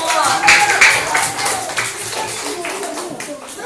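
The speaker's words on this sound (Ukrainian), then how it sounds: "плескаємо долоні, вітаємо" An audience at a school report-card ceremony claps in a spread of scattered, overlapping hand claps, with voices talking and children chattering over and among the applause.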